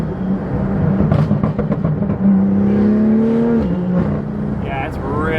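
A Porsche GT4 pulls hard through third gear, its exhaust rising in a loud, climbing roar that peaks, drops briefly at a shift, then fades as a voice talks over it.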